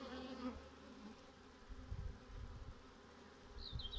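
A swarm of honey bees hums steadily during a queen introduction, with soft low thumps and rustling partway through and a brief high squeak near the end.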